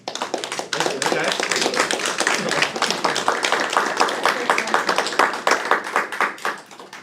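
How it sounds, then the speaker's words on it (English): A FileMaker user group meetup audience in Dallas bursts into sustained, dense applause with many hands clapping steadily for several seconds, loud and close, and a few voices mixed in. "Thank you all for that applause."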